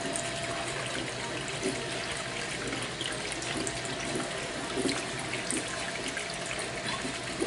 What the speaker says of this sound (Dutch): koud water even op je handen, is wel lekker